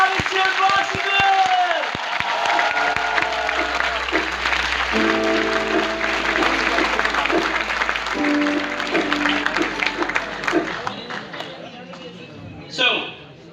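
A stock market summit audience breaks into loud, sustained applause and cheering that fills the hall, with a voice speaking over a sound system partway through before the clapping fades.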